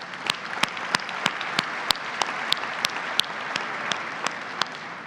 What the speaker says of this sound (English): one more round of applause for all of them